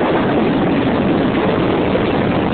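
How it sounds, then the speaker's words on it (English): Space Shuttle Atlantis lifts off as its boosters ignite, a dense, steady roar of broadband noise heard from onboard, loud and unbroken throughout with no voices. "Booster ignition and liftoff of the Space Shuttle Atlantis"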